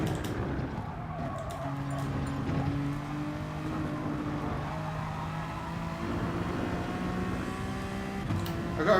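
Honda race car in GT Sport running a steady engine drone with shifting harmonic tones, sustained and fairly close, holding revs through a lap with small pitch changes and no talk.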